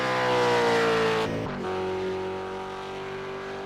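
A V8 Supercar in a sim racing game at Circuit of the Americas howls under load, its engine note sweeping up, a brief gear-change break, then resuming a steady high-revving drone.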